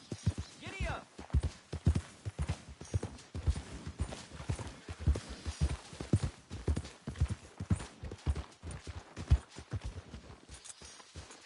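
A horse's hooves clip-clop steadily in Red Dead Redemption 2, a near, rhythmic run of hoofbeats continuing through the whole stretch while voices speak over parts of it.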